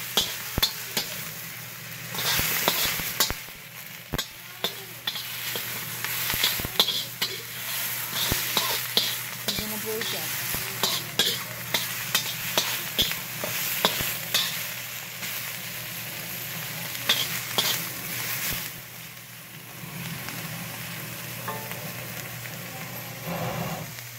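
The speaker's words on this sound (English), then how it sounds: "shells from shrimp go in there as well. Get some color on that." Shrimp shells and fish scraps frying in a pot for a seafood stew, a steady hissing sizzle throughout with frequent sharp clacks of a utensil scraping and stirring against the pot, close, with no talk.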